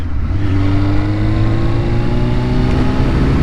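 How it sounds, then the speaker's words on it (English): Suzuki GSX-R1000 sport bike engine droning steadily while riding, a continuous close engine note with slowly shifting pitch and wind, no talking. "And if you're watching Jim, I'm on my beautiful, amazing GSXR1000"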